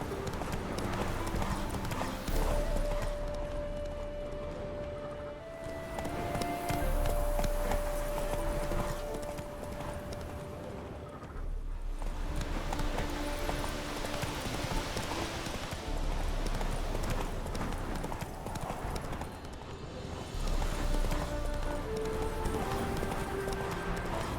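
Steady clip-clop of horse hooves over a rainy ambient backdrop in The Witcher 3: Wild Hunt, with a couple of brief whinnies rising above it.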